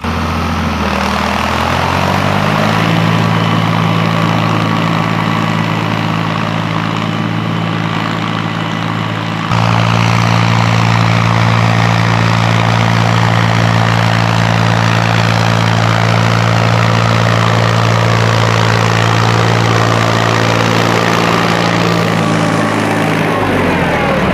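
A loud tractor engine idles while working fall food plots, then revs up and settles into a steady, heavy drone that runs on unbroken.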